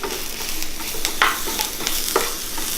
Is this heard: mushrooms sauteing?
yes